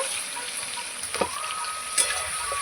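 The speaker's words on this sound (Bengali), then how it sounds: "আমি কিন্তু সবজিগুলো বেশি ভাজবো না আর একটু চাপা দিয়ে তারপর মশলাগুলো দেব" Vegetables and potatoes lightly frying in a pan give a soft, even sizzle with a couple of brief stirring clinks, heard close up with no speech.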